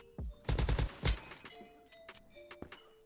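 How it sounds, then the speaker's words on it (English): Rapid gunfire from Valorant gun sound mods in the Krunker shooter game: a quick burst of close, loud shots followed by another sharp blast, then quieter metallic clinks and a few short tones. "It's just simply the guns and the sounds that you'd find in Valorant."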